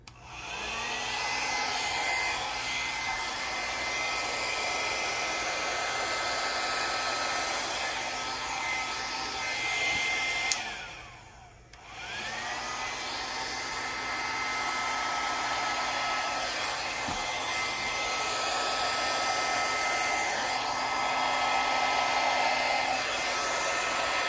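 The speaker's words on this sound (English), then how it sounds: "I hold the blow dryer upside down." A hair blow dryer held upside down over poured acrylic paint roars steadily up close, with one brief cutout midway before it resumes at full strength.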